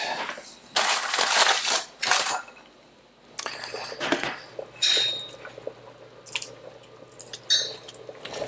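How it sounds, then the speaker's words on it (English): Browned beef pieces tipped back into a braising pot for a French bistro braised beef, bursts of crunchy, wet clattering and metal scraping in short uneven clusters, close and fairly loud with quieter gaps between. "now's the time to add the beef back to the pot"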